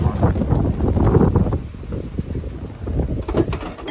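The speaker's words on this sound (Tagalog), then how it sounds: "Lakas ng hangin." Strong typhoon wind gusts buffet the microphone outdoors, a rough, rumbling roar that swells and eases in uneven bursts close to the recorder, with no speech.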